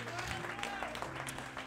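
A church congregation gives steady, fairly faint applause, a brief spell of many hands clapping with some crowd murmur underneath.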